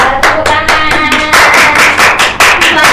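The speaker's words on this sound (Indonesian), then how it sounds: "Ya, tepuk tangan." Students in a classroom clap in a loud, quick, rhythmic burst that runs about three seconds, close and clear, with little else heard.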